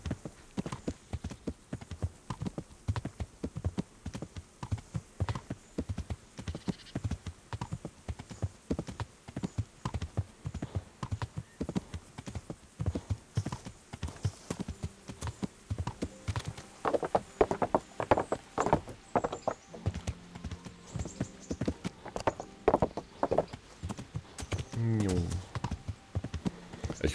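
Horse hooves trotting at a light, easy pace in the medieval video game Kingdom Come Deliverance, a steady run of soft clip-clop beats that continues throughout, with someone talking over parts of it.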